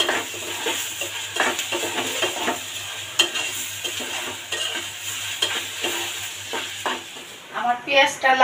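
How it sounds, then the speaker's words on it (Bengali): Onions fry in hot oil in a pan for Bengali chicken korma, with a steady sizzle broken by repeated scraping stirs of a spatula against the pan, close and fairly loud, with a few clinks near the end. "আমার পেঁয়াজটা লাল লাল করে ভাজা হয়ে গেছে"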